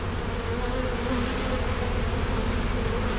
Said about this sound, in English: So I'm going to shake these bees in here.